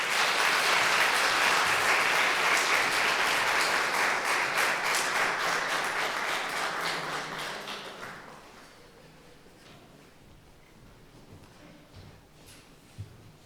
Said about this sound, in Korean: 우리 큰 박수하도록 하겠습니다.